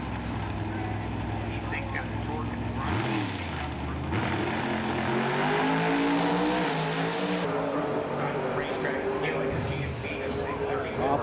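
Chevy-powered drag racing cars roar at the NHRA event at Indy, a loud sustained engine blare with pitch sweeping up and down as they run, under an announcer talking over the track.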